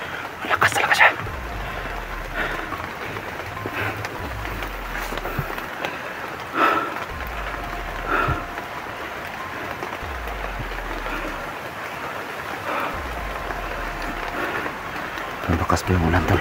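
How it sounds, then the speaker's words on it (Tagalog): Heavy rain pours down in a steady, dense hiss throughout, with occasional louder splashes and low rumbling bumps, while people talk intermittently over it. "Malakas pa yung ulan tol."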